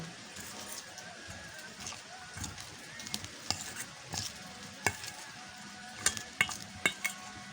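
Eggplant burger mixture being stirred in a pan, with soft irregular scraping and a faint sizzle beneath, and several sharper utensil clicks and taps toward the end; no voices.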